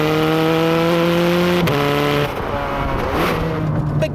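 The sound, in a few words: Ferrari 430 Scuderia gearbox shifting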